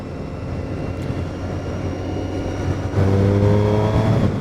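A 2007 Triumph Street Triple 675 motorcycle pulling hard in sixth gear from about 40 mph, a steady engine drone that rises in pitch and grows louder partway through, with wind rush behind it.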